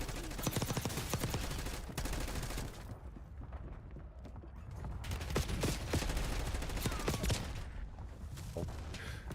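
Rapid gunfire in Call of Duty Warzone aimed at the player, dense bursts of automatic shots and cracking rounds, loud and continuous with a short lull midway, with faint speech underneath.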